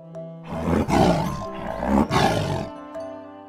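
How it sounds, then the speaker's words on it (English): A tiger gives two long, loud, rough roars in close succession, each swelling and fading, with a short break between them and no talk. "T. For tiger."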